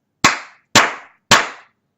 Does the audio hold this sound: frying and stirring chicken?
no